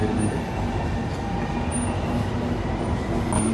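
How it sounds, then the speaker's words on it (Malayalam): A Kochi Metro train gathers speed, its steady rumble and rail noise loud and continuous from inside the car, with faint high squeals flickering above the drone. "മെട്രോയുടെ സ്പീഡ് കൂടി വരുന്നുണ്ട്."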